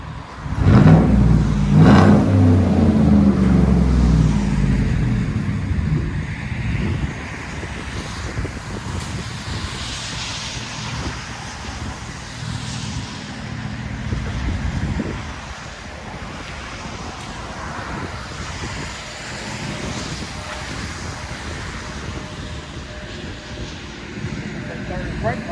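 A 2014 Chevy Silverado with a 5.3L V8 and straight-pipe dual exhaust gives loud, deep rumbling revs up close, strongest in the opening seconds and then settling into a steady drone, with wind buffeting the microphone and people talking over it.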